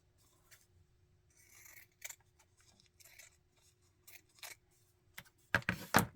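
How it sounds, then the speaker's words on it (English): Scissors snip the messy white edges off strips of washi tape in a quiet papercraft setting, a few light scattered cuts early on building to a tight, louder cluster of crisp snips near the end, with no talking. "Just snip them off."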